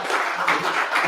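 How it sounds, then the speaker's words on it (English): A crowd at an open mic comedy night in a brewery in Santa Fe, New Mexico, applauds for the comedians, a short burst of steady, fairly loud clapping from a small room. "can we give it applause for the other comedians that went up here?"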